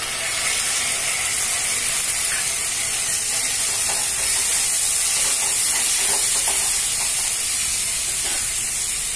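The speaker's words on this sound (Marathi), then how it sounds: "हे बघा, कांदा आपला चांगला शिजत आलेला आहे। आता आपण टोमॅटो टाकतोय।" Tomatoes dropped into onions frying in a pan, giving a steady loud hiss and sizzle that runs unbroken from start to end with no talking.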